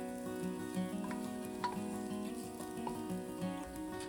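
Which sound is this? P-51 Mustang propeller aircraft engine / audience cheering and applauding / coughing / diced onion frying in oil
diced onion frying in oil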